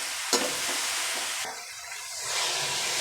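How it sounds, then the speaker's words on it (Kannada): Head mutton sizzles and fries steadily in a pan, a continuous close hiss with stirring and no voices. "ಈಗ ಫ್ರೈ ಮಾಡ್ಕೊಳ್ತಾ ಇದ್ದೀನಿ."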